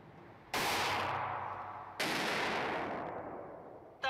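Two loud, close pistol shots fire about a second and a half apart at an outdoor shooting range, each a sharp crack trailing off into a long echoing decay, with the start of a third at the very end.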